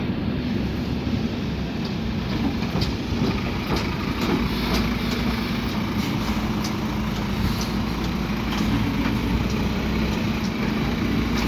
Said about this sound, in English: that bin lorry's still in the tip bay